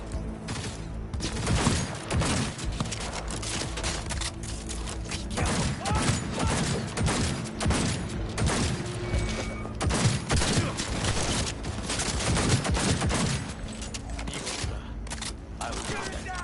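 Rapid pistol gunfire in the video game Cyberpunk 2077, loud and dense volleys of sharp shots repeating throughout amid game action, with voices speaking at times.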